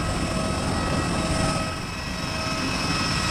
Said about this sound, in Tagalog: Masaka na kami ni Mama sa aeroplano.